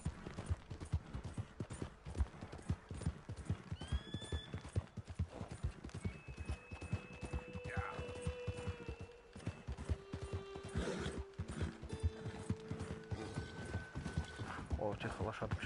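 A horse in Red Dead Redemption 2 gallops with fast, continuous clip-clopping hooves and lets out a neigh partway through, mixed with rattling tack and other game sounds.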